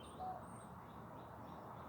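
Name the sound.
robins chirping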